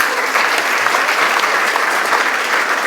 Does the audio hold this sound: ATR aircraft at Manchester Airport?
no